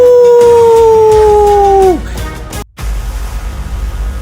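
A long, loud wolf-like howl with two steady sliding tones that bend downward and break off sharply after about two seconds, followed by a short silence and low rumbling noise.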